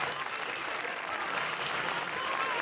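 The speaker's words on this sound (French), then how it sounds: "toute l'équipe a eu droit à une très belle ovation de la part de la salle" Audience at the Cannes 2016 premiere of Personal Shopper giving a standing ovation: sustained, dense applause filling the hall without letup.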